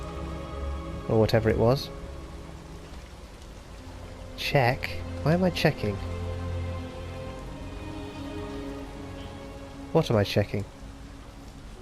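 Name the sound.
rain in video game Detroit: Become Human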